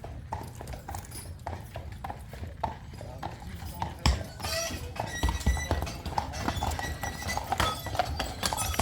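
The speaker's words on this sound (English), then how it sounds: "Oh, we got some horses." Horse hooves clip-clop steadily on a hard street on Mackinac Island, Michigan, with traffic noise and faint voices in the background.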